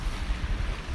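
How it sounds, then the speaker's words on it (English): Low rolling surf and wind buffeting the microphone, a continuous rumbling wash of waves close by. "all these waves start coming in"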